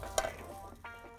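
Seafood pajeon flipped into a hot pan and seared on high heat, with a sharp bright clatter as it lands followed by a soft, continuous sizzle and faint scraping, fairly quiet and close.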